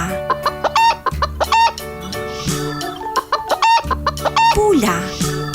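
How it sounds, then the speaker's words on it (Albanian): A hen clucks in short repeated bursts, close and clear, layered over steady background music with no talking. "Pula."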